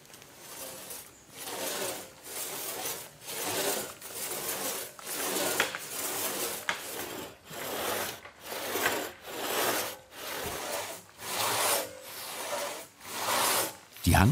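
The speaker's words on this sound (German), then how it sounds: "sägen den Baumstamm von Hand zu sogenannten Rugeln." A hand-sharpened crosscut saw cutting a log by hand into short rounds, steady rasping back-and-forth strokes in an even rhythm, about thirteen strokes, close and clear.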